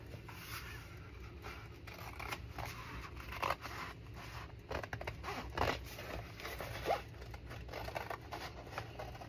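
Scissors cutting file folder paper to fill a gap on an ice cream carton journal cover, heard as close, soft snipping and scratchy rustles over a steady low hum, with no talking.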